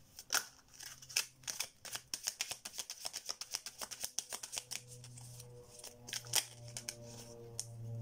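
Tarot cards sticking together are handled, shuffled and drawn close up, giving a quick run of crisp flicking snaps, brief pauses, then more riffling.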